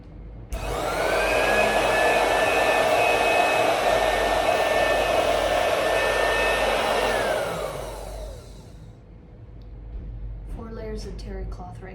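An electric sewing machine stitches through four layers of terry cloth with a steady, loud motor whir for about eight seconds. It then winds down, and a voice speaks briefly afterward.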